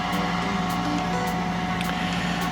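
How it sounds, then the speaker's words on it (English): Steady generator machinery drones in the background on a hot, steamy day around the low 30s, a continuous even hum with no breaks and no voices. "I don't know whether you can hear that machinery running in the background, but I think it's a generator"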